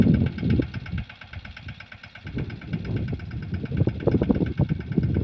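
A mini tractor engine runs nearby while working a groundnut field, giving a steady chugging, knocking rumble that rises and falls in intensity.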